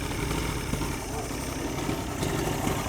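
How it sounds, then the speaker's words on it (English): A two-stroke outboard motor runs at a steady, close idle with an even buzzing drone and no pauses. "let's crank her up."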